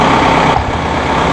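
A Massey Ferguson tractor fitted with a loader runs at a steady, loud idle close by, a brief rumbling diesel drone with a slight shift partway through and no voices.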